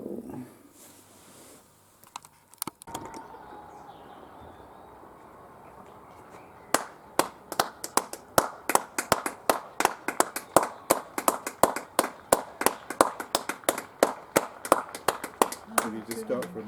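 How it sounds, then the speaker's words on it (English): Emergency services teams clapping on arrival after an aircraft diversion in Northern Ireland: after a quiet stretch, a steady run of sharp, evenly spaced claps, like one or a few hands nearby, carries on for about ten seconds. "They are all clapping."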